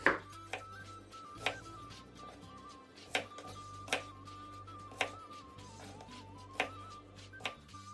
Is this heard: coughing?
no